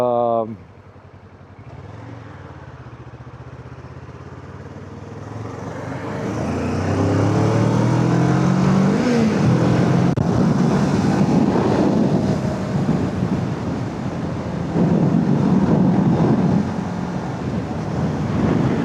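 A 2008 Kawasaki ER6F motorcycle riding in traffic. Engine and wind roar swell after a few seconds into a steady, loud drone, with a voice talking at times.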